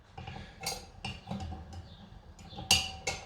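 A small metal clip clicks back into a female connector socket, giving a few sharp, close metallic ticks and clinks with quiet pauses between them.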